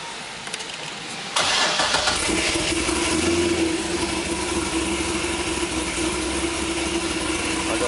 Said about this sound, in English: Go back here where you can hear the sound of the exhaust here.